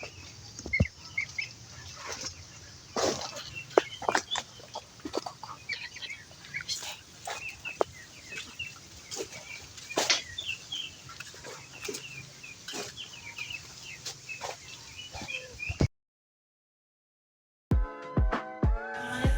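Ducks at a jumbo duck farm in Purwojoyo village, Deli Serdang, give scattered quacks and flapping rustles over a constant barnyard murmur, with sharp short calls popping up throughout before a brief silence and a few closer squawks.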